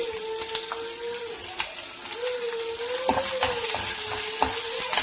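Green Bangalore chillies fry in a pan, making a continuous close sizzle with light clicks and stirring sounds, and a faint steady hum running underneath.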